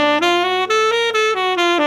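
Augmented scale run over a sustained major 7 sharp 5 chord, a quick string of clear single notes stepping upward above a steady held chord, close and without talk.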